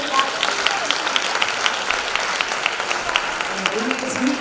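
Audience applause at a choral composition awards ceremony as judges are introduced: a moderate field of individual claps with distinct sharp hits, and a voice begins speaking near the end.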